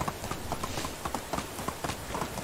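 A horse ridden at a walk in the medieval life-simulation video game Medieval Dynasty, with an even clip-clop of hooves repeating steadily under a background wash of game ambience.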